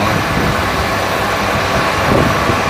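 Aluminium stock being drilled on a metal lathe produces a steady, dense whirring machine drone that holds at an even level throughout, close and continuous, with no talking.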